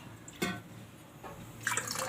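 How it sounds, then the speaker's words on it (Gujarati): Water splashes into a cooking pot in short bursts, a brief pour early on and another longer splash near the end, while preparing to heat cow's milk for rasgulla. "પહેલાં આમાં થોડુંક પહેલાં પાણી નાખશું તપેલીમાં"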